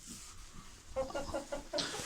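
A small Serama mix rooster gives a quick series of five or six soft clucks close by, over low background noise.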